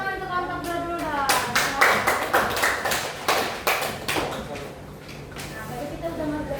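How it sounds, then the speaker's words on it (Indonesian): Classroom applause for a student group, a run of sharp, fairly close hand claps lasting several seconds, with a teacher's voice speaking over the start. "Tadi tepuk tangan untuk kelompok 2 dulu dong."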